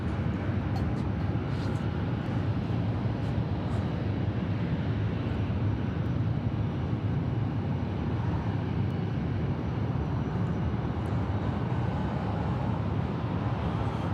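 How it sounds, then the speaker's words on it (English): An MD-11 jet departing Atlanta Hartsfield-Jackson gives off a steady, broad engine roar at moderate distance, constant and unbroken with no voices over it. "So we got an MD-11 headed out."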